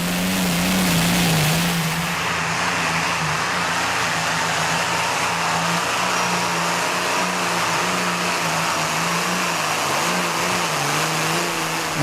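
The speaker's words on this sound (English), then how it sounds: "The Rover Meteor tank engine, so compared to many of this class, he's very underpowered." A modified pulling tractor powered by a Rover Meteor tank engine roars loudly and steadily at a tractor pulling competition, its deep drone rising briefly at the start, then holding an even, sustained pitch throughout.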